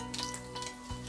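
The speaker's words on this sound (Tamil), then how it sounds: "கடுகு பொரிஞ்ச உடனே உளுந்தம் பருப்பு சேர்த்துருங்க," Mustard seeds and urad dal sizzle in hot oil in a pan, a short burst of close, crackling frying noise with a few sharper pops.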